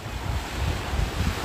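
Sea waves wash onto a UK shore at high tide, a dense, continuous rush of surf blended with heavy wind buffeting the microphone, loud and close with no voices.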